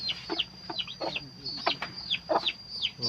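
Chickens cluck repeatedly at a feeding trough while pecking at azolla (red water fern) feed on a Thai garden farm, with short overlapping calls close by and a steady high insect-like whine in the background.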